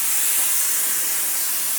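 A pressurized sprayer applies UV treatment to outdoor furniture, giving a loud, steady, close hiss that runs unbroken.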